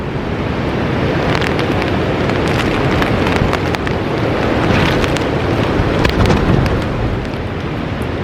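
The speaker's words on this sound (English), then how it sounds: "the tent's held up well with the wind" Strong winter wind roars steadily against a one-person tent at a wild camp, a dense continuous buffeting with gusts that swell and ease, loud and close throughout with no talking.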